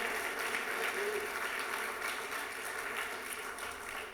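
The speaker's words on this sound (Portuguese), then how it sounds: "Você consegue aplaudir Jesus aí? Bem forte, bem forte." A church congregation applauds during a Portuguese-language Baptist Christmas service, giving a steady, dense wash of clapping that carries at an even level throughout.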